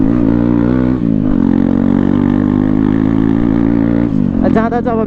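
A KTM Duke 250 motorcycle with a loud aftermarket exhaust drones steadily up close, its deep engine note filling the whole stretch, with a voice rising over it near the end.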